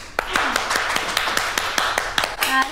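Office colleagues clap for a coworker, a run of sharp, evenly spaced hand claps, close and fairly loud, with a faint tonal voice at the end.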